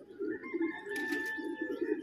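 Pigeons coo softly in a low, pulsing murmur, a steady run of gentle throaty calls fairly close by with faint background noise and no talking.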